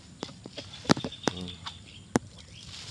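A broody mother hen clucks close by in short, irregular clucks, with a few sharper, louder calls among them against a quiet farmyard background.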